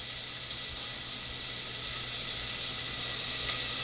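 Half a small or medium onion sautéing in a pan for tomato basil soup, a steady, even sizzle that holds unchanged from start to finish with no voices over it.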